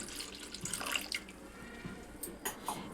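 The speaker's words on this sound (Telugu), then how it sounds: "దీంట్లో వాటర్ వేసుకోవాలి" Water poured into a dish while cooking pachi pulusu, a soft splashing trickle with a few drips and small splashes, quiet and close, no one speaking.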